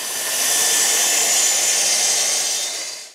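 Power saw cutting hollow-section panel pieces for a camping cook's table, a loud, steady, close high-pitched whir held for about three seconds before cutting off.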